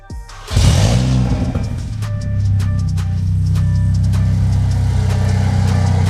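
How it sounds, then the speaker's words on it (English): A Mercedes GLA45 AMG engine cranks and cold-starts with no exhaust fitted, then settles into a loud, raw, rumbling idle with no muffling, a deep throb running steadily throughout. "are you ready for a cold start without an exhaust?"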